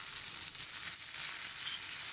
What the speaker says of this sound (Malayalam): കടുക് പൊട്ടിത്തുടങ്ങുമ്പോഴത്തേക്കും കുറച്ച് കറിവേപ്പില ഇടുക.